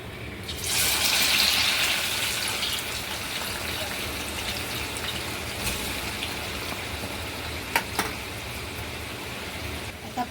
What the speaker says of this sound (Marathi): आता मी हे सगळे कांदे ना तळून घेते